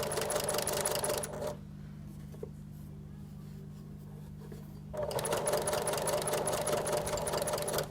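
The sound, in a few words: sewing machine edge stitching a fabric mask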